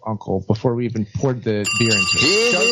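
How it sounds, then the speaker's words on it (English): A telephone ring tone with a bright, steady electronic trill starts partway through and continues under close, loud conversation between people talking at a drinking session. "That was the phone call noise."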